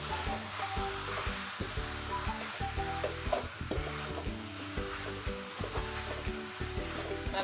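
Spice masala sizzling and frying in a pan on high heat for chicken gravy, with a steady broadband hiss and repeated scraping, stirring knocks, close and fairly loud throughout.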